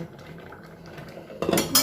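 Metal clatter of an improvised lid being set over a pot of Thai moringa and shrimp curry, a quiet stretch then a couple of louder clanks near the end, with no talking.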